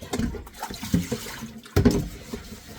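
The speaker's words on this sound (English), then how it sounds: "Then I'm gonna wash my bowl, my basins out." Tap water splashing and running in bursts while bowls and basins are rinsed out, close and moderately loud, with clattering and a break midway before the flow resumes.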